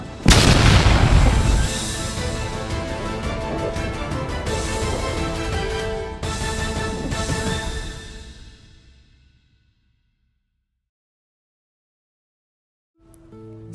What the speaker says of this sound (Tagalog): Si Rizal ay binaril at namatay